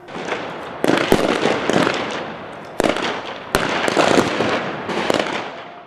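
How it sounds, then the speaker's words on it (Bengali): Rapid bursts of simulated gunfire during an army security drill staging a hostage rescue at a cricket stadium, loud sharp cracks in dense irregular volleys with a few louder isolated shots, no talk. "কয়েকজনকে জিম্মি করে রাখা জঙ্গি গ্রুপের সঙ্গে বৃষ্টির মতো গুলি বিনিময়"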